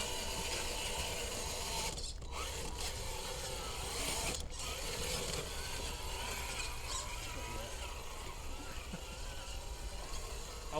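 Motor and gears of an FTX Gladius RC crawler whine steadily as it climbs over tree roots outdoors, a continuous mechanical hum with a couple of brief dips.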